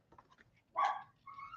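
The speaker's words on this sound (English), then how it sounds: "that was my dog, if you can believe it, making all kinds of crazy noises" A dog making odd vocal noises indoors: a brief sharp yelp followed by a thin, rising whine, faint and close.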